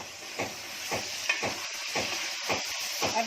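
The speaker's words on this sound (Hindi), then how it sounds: "अब 1 मिनट के लिए आलू डाल रही हूँ भूनने के लिए।" Prawns and potatoes fry in a pan with a constant sizzle, broken by about seven evenly spaced stirring scrapes, close and without talk.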